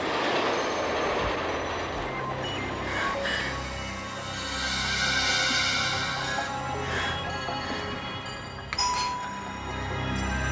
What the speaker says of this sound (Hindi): वही ट्रेन की आवाज